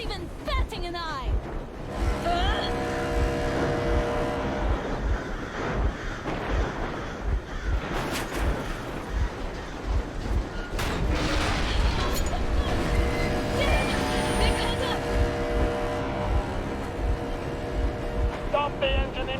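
A boat engine runs steadily throughout a post-apocalyptic shooter game scene, a low continuous rumble under wind noise and bursts of game dialogue and music.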